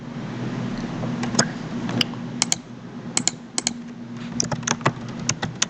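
Computer keyboard keys being typed on during a Java programming lesson: irregular bursts of sharp, close clicks with short pauses over a low steady hum, no voices.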